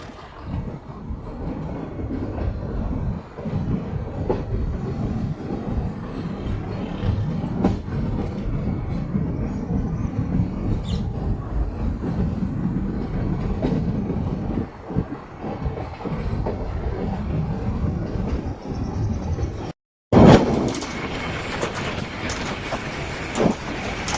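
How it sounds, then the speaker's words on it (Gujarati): A metre gauge train on the Junagadh to Chalala line rumbles into Dhari station with steady wheel clatter and a rocking carriage roar, then a brief dropout and a sharp burst of louder noise near the end. "ધારીમાં ટ્રેન એન્ટર થાય છે"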